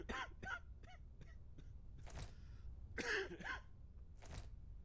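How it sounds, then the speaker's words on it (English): Several short, harsh coughs and throat-clearing bursts from an infected character in a zombie survival game, spaced irregularly, close and fairly quiet. "The lungs should sound different when he's coughing."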